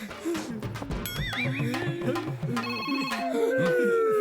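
An electronic phone ringtone plays a warbling melody throughout, with loud musical tones and some background noise.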